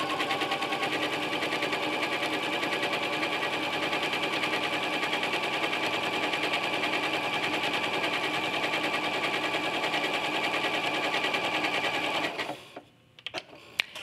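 A sewing machine runs steadily while quilting decorative stitches, a fast continuous mechanical whir for about twelve seconds before abruptly stopping, then a few faint clicks.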